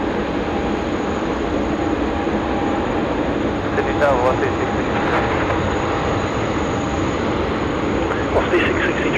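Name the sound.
Singapore Airlines flight 242 taking off at Sydney Airport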